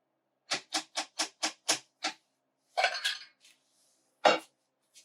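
Baked beans being mixed in a pot: a quick run of seven sharp metallic utensil clacks against the pot, followed by a few scraping, clattering stirs and one last firm knock, loud and close with no talk.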